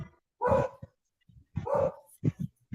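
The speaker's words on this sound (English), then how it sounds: "Sorry about the dog, folks" A dog barks indoors in short separate bursts, two louder barks followed by a few quicker, softer yips, fairly close and with no talk over them.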